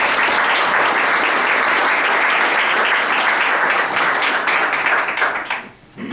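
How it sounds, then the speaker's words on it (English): A studio audience at a TV morning show gives a sustained round of applause, dense and loud clapping that holds steady and then quickly fades out at the end. "I think that they all deserve another round of applause."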